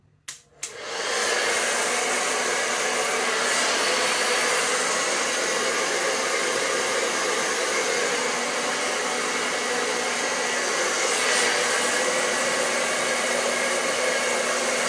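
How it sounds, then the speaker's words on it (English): After a brief click, a hair dryer switches on and blows with a loud, steady whooshing hum that continues unbroken to the end. "drying my hair with the hair dryer"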